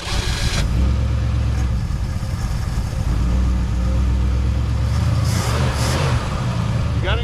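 A 1963 Mercury Comet with a rat-infested V8 260, in its first start after more than 25 years, runs loud and steady at close range, rumbling with slight revs, while people talk nearby.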